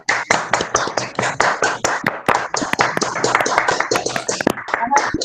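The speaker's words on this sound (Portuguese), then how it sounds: "Vamos aplaudir" An audience at a lecture on Jungian analytical psychology claps in a steady stream of sharp, distinct hand claps that run throughout at close range, with speech faintly mixed in.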